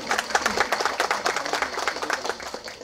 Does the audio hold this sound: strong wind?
no